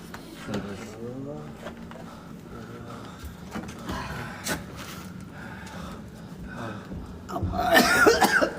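Coughing breaks out near the end inside a machine factory, a burst of rough coughs over a noisy room where people were talking quietly before.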